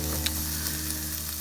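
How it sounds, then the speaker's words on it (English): Brussels sprouts frying with shallots and garlic in a pan over medium heat, giving a steady close sizzle with a couple of faint clicks and no talk. "I'm going to add my Brussels sprouts first"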